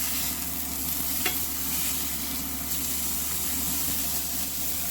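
A burger patty sizzling on a hot grill just after being flipped, a steady hissing fry noise that holds evenly throughout, with one small sharp tap partway in, moderately loud and close.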